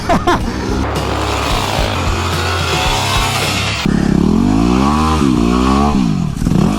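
A supermoto motorcycle roars close by while being ridden, its engine loud and continuous, then revving up and down in rising and falling sweeps.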